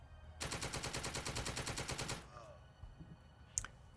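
A rapid automatic burst of gunfire in Star Citizen rattles loudly and evenly for nearly two seconds, then stops, leaving a faint background with one sharp crack near the end.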